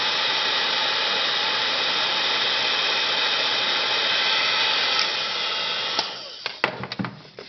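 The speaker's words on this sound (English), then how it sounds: "First we have to remove the flame rod from the packaging with a heat gun" A heat gun blows a steady, loud airy roar while warming the perimeter of a flame rod's packaging, then cuts off, followed by a few sharp handling clicks and taps.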